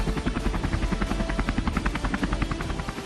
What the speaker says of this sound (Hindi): रुद्र फॉर्मेशन में 2 ध्रुव हेलीकॉप्टर और 2 ALH रुद्र हेलीकॉप्टर्स ने हिस्सा लिया